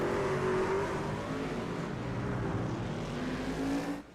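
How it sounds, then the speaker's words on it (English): In a racing video game, a pack of race trucks and cars rolls around Talladega in a multi-class heat, making a dense, continuous engine drone with shifting tones and no voices. "Make sure you hear the broadcasters and these trucks and cars as they begin to roll here for heat number 2."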